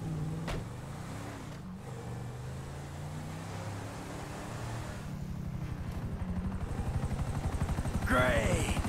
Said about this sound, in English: Great. Another chopper.